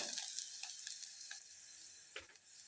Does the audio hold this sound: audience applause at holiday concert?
no